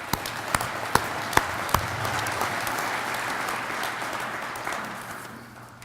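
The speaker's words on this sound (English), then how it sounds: "let's give them a round of applause as well." An audience at a Veterans Day program breaks into sustained applause. A few sharp, close claps stand out at the start, and the clapping fades toward the end without any talking.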